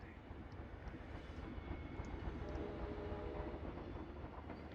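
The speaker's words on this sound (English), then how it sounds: "Oh, you can hear the train going above overhead." A train passing overhead in the theme park game Planet Coaster, a continuous rumbling roll with a faint rhythmic rattle, steady and fairly quiet throughout, heard alone with no talk.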